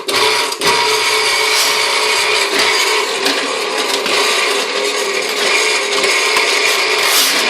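A drain cleaning cable machine runs steadily at a home site in Northern California, a loud continuous mechanical whirring and rattling with a ratchet-like clatter, sustained close by for the whole stretch without talk.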